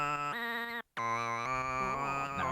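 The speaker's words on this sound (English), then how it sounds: "up pitched throat singing, which is sounds like this" Up-pitched throat singing layered over a synth for the Fall Guys game soundtrack, held nasal tones that step between pitches with a brief cut in the middle, close and fairly quiet.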